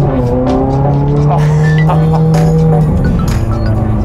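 A Ferrari with a tuned 510 hp V8 sounds close and loud, a sustained engine tone shifting pitch as it drives, with light tire noise and talk over it.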